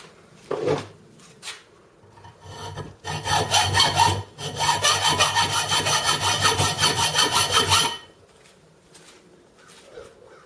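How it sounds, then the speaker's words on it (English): A regular hacksaw cutting pieces down to size for a DIY tee, heard as a few tentative scrapes followed by a long run of fast, rhythmic back-and-forth rasping strokes, close and loud, then stopping. "And then we just want to cut them down to size. You can just use a regular hacksaw."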